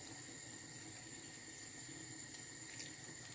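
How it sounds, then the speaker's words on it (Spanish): Water pours from a tap onto salted chopped eggplant, a steady, soft hissing flow that stays even throughout at low level. "Y le vamos a poner así agua."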